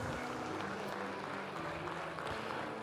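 Applause from the ringside crowd for cow number 122, a Blonde d'Aquitaine heifer at the Pyrénéennes 2024 livestock show, steady and fairly faint across the whole stretch with no talk over it.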